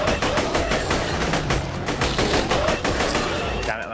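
Rapid, dense gunfire in the video game Borderlands 2 during a boss battle, loud bursts of shots in quick succession filling the whole stretch.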